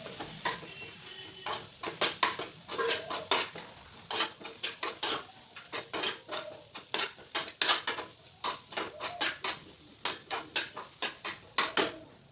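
Grated cauliflower sautéing in a pan makes a gentle sizzle under repeated rhythmic scraping and clinking as a spatula stirs it close up.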